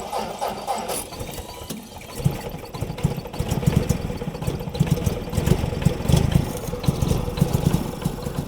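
The engine of a 1940 Ford Pilot Model GP jeep, fitted with a modified Model A transmission, runs with a loose mechanical clatter and ratcheting rhythm that grows steadier and louder as it drives, close by and without talk.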